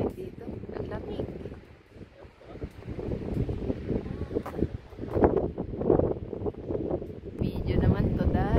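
Gusty wind buffets the microphone in low, uneven rumbles, rising and falling, with a voice speaking faintly underneath, on the Bernina Express route in cold air.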